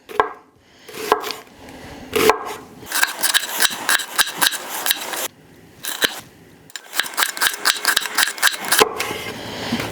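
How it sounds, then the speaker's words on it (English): Knife chopping through an onion on a cutting board while preparing a smash burger, with a long run of crisp, rapid cuts and thuds up close, broken by a few brief pauses. "once you have your onion, we're just gonna cut it in half."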